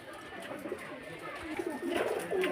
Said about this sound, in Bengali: এই যে দেখুন পায়রা দুটো কোয়ালিটি দেখুন কত সুন্দর